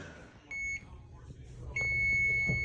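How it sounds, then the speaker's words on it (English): Two electronic kitchen-timer beeps ring out, a short one and then a longer, sustained tone, over a low background hum in a home setting. "All right, timer went off."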